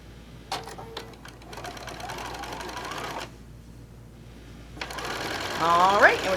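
Quilt pieces for a Crossroads quilt run through a sewing machine in close, whirring bursts. The motor stops for a short pause, then starts again. A voice talks over parts of it.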